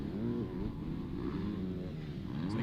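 Youth motocross bikes racing at Fox Raceway in a kids' moto, a Kawasaki among them, their engines droning and revving steadily together at a continuous, fairly loud level with no pauses.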